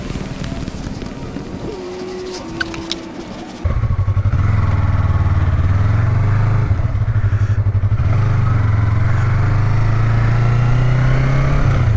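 An M203 beginner motorcycle starts up after a short quiet stretch, its engine settling into a loud, steady drone close by as the bike rides off.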